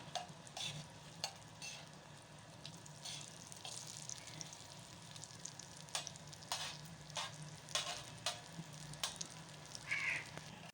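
Eggplant slices fry in ghee on a hot tawa, giving a soft continuous sizzle broken by sharp scraping and stirring clicks as the pieces are turned, close by and fairly quiet, with no voices.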